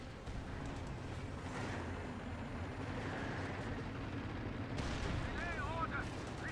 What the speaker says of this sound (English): Force firing through the hedge.